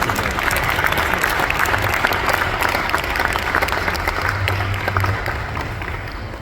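A chess-event audience applauds the new women's world blitz champion from China, steady dense clapping from a large crowd that holds for several seconds before tapering slightly.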